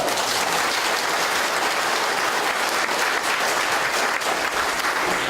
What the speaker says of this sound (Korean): 마지막으로 한 가지 박수 크게 합니다.